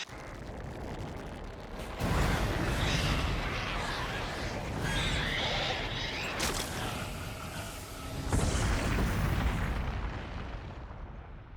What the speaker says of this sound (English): It just caused a nuclear explosion to happen.